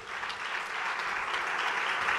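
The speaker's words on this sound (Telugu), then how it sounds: "చప్పట్లు కొట్టండి గట్టిగా" A congregation claps hard in a church service, dense steady applause that carries loud and unbroken through the whole stretch with no voices over it.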